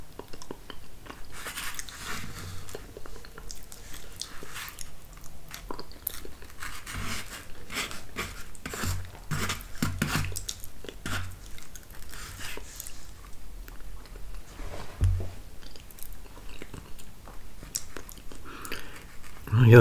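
Close-up chewing and soft munching of Quaker instant grits with country bacon pieces, steady wet mouth sounds continuing for many seconds with occasional louder bites.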